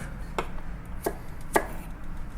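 A knife chops garlic into smaller pieces on a cutting board, giving three crisp, evenly spaced chops close by with no talking.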